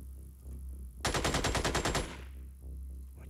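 A single short burst of rapid automatic gunfire in the video game Xenonauts X-Division, about a second of close, sharp repeated shots between quieter stretches of game ambience.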